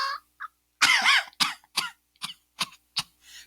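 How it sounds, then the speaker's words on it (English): A person coughing into a microphone, a long rough cough followed by a series of shorter throat-clearing coughs in an uneven rhythm, close and dry. "Coughing in the mic."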